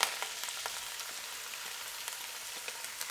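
Leeks and onions fry in a pan for a ham and vegetable soup, giving a soft, even hiss with scattered faint pops and light ticks throughout, fairly quiet and with no voices.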